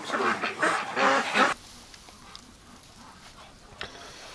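Muscovy ducks calling on a farm on a winter morning, a short burst of loud honking, quacking calls for about a second and a half, followed by quieter rustling and one brief call.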